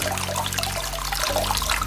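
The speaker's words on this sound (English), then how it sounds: "Scrub the bodysuit nicely. Squeeze out the water. Rinse it." Water from a doll's bodysuit being squeezed and rinsed, with a steady close splashing trickle, a few sharper drips and a brief squelch.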